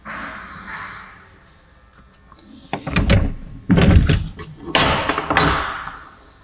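A door fitted with a PCT Smart 7 sensor is opened: a quiet stretch, then a run of loud, close thunks and rattles that come in bursts.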